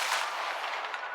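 Confringo fire spell cast in the video game Hogwarts Legacy, a loud, dense whooshing blast of fiery noise that stays steady and close, with no speech.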